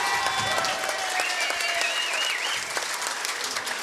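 Spectators applaud handball player Allan Garner as he is introduced before the 2009 World Handball Championships four-wall singles final, a steady, even wash of clapping filling the court with no pauses.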